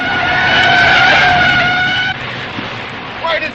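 A car in a 1941 serial, driven recklessly, skids: a loud, close, sustained tire squeal lasts about two seconds, then fades into engine rumble and a brief second screech at the end.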